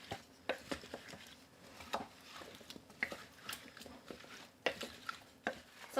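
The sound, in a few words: stirring stew ingredients in a pot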